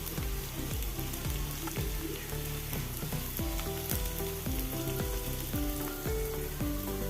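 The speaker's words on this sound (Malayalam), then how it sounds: "ഇളക്കി കൊടുക്കാം ക്യാപ്സിക്കം ചേർത്ത് കൊടുക്കാം" Capsicum stirred and fried in a pan for vegetable fried rice gives a steady broad sizzle, mixed under loud rhythmic background music with a repeating pattern of notes.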